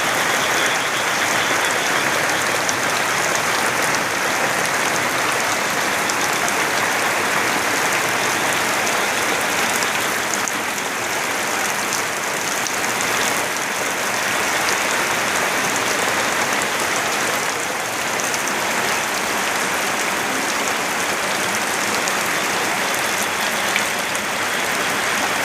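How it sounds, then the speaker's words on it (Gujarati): Heavy monsoon rain pours down over farm fields in Gujarat, a loud, continuous hiss of drops on surfaces that holds steady throughout with no voices. "જોરદાર વરસાદ પડી ગયો છે"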